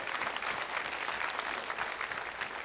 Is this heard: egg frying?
no